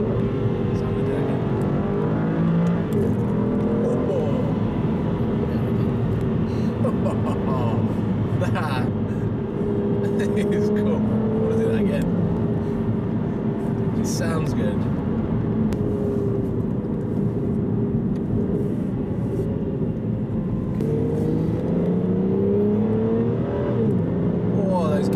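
Aston Martin Virage engine revving hard under sport-mode acceleration with rising and falling pitch through gear shifts, loud and continuous from inside the cabin, with people talking over it.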